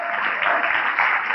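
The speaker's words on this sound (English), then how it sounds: "Let's have a big round of applause as she comes on." A talk-show studio audience on Off the Cuff applauds as actress Alia Bhatt walks on, a dense, steady wash of clapping that holds at an even, fairly loud level through the whole short stretch with no voices over it.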